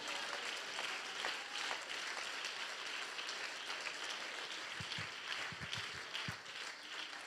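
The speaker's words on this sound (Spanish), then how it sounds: "Dele ese aplauso al Señor" Congregation in a church applauding, a dense, even wash of many hands clapping held steadily throughout, heard from a distance and fairly faint, with no one speaking over it.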